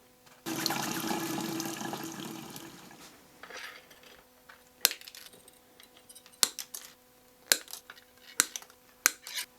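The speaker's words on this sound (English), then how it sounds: "I'm gonna go ahead and wash this polish off my hands" Tap water runs steadily for a few seconds while nail polish is washed off hands, then stops, followed by a series of sharp, close clicks and knocks.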